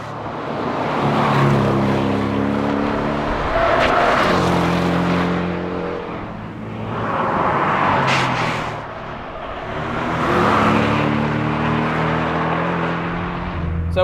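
A Porsche 718 Cayman S four-cylinder engine revs hard in repeated surging waves on a race track, pitch sweeping up and down as the car speeds along.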